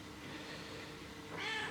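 A cat meows once near the end, rising clearly over a steady background hum in a workshop where a 2019 Yamaha YZ 125 motocross bike is being serviced.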